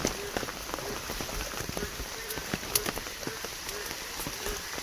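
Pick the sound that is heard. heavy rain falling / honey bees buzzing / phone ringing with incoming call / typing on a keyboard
heavy rain falling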